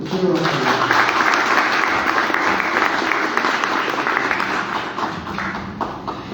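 An audience greets a senator at a constitutional law event with applause, loud and sustained clapping with faint murmuring from the crowd. It eases slightly toward the end.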